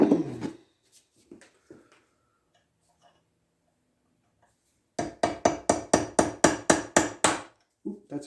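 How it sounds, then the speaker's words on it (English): A hammer strikes a chisel wedged into a broken shell mill held in a vise, about a dozen sharp, evenly spaced metallic blows in a quick run near the end after a few scattered knocks and near silence. "Let me try and get the chisel in behind there."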